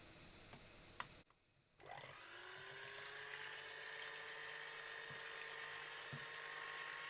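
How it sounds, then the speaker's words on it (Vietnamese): An electric hand mixer on its middle speed whirs steadily as it beats five egg whites with sugar, a close, even high-pitched motor drone that starts after a brief pause and runs on without a break. "Tiếp theo thì mình sẽ đánh 5 cái lòng trắng trứng gà cùng với 80g đường."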